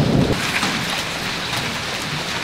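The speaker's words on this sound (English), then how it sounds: "It started hailing now." Heavy rain and hail pour down outdoors in a dense, steady hiss of pelting drops, loud and close, with a brief harder burst at the start and no voices.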